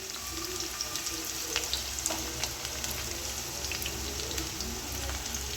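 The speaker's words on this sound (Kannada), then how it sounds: "ಬೆಳ್ಳುಳ್ಳಿ ಆದಮೇಲೆ ನೆಕ್ಸ್ಟ್ ಹಂಗೆ ಈರುಳ್ಳಿ ಹಾಕ್ಕೊಳ್ತೀನಿ." Onion frying in oil after garlic in a home kitchen, a steady broadband sizzle with scattered crackles and pops, fairly close and continuous, with no talking.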